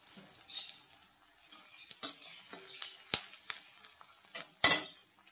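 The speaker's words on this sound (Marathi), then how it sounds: "आणि आता भाजी फोडणी देऊया." Bamboo shoot vegetable is tempered in a pan with chilli, salt, turmeric, ginger-garlic paste, onion and tomato; a faint sizzle runs beneath scattered spoon clinks and stirring clatters, with one louder knock near the end.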